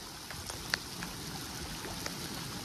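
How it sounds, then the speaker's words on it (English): Steady rain pours down during a thunderstorm outdoors while bass fishing, a soft continuous patter with occasional sharper drops, fairly quiet and without talk. "It's fucking lightning, thunder, and pouring down fucking rain."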